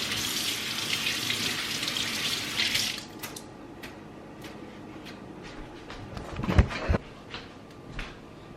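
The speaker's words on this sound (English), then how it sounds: "Get some warm water." Warm tap water runs in a steady hiss for about three seconds, then stops, followed by soft splashes and clinks of hands being rinsed nearby while cooking.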